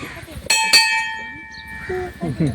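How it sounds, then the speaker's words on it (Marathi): Two sharp metallic temple bell strikes in quick succession, each ringing out with a long, bright shimmering decay; people murmur faintly in the background. "घंटी वाच, घंटी वाच"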